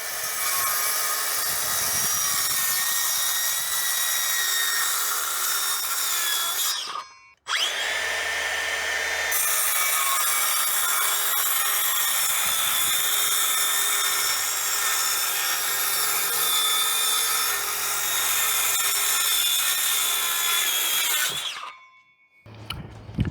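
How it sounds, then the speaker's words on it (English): A circular saw cuts a chipboard bench top to size with a loud, sustained whine, briefly stopping around the seventh second, then running on at full load before cutting off near the end. "That circular saw did an amazing job"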